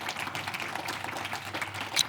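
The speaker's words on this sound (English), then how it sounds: "So please give them a round of applause in advance for their wonderful thoughts." Panel speakers receive a round of applause from the audience, steady moderate clapping lasting about two seconds.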